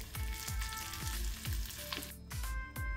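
Curry leaves and red chilli pieces hit hot oil already tempered with cumin and asafoetida for a tomato chutney, giving a steady close sizzle with a regular low thumping beat underneath and no talk.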